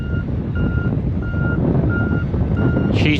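An autonomous tractor starting its tilling work sounds steady, evenly spaced reversing-style beeps over a loud, constant engine rumble close by, with a brief higher electronic chirp at the end.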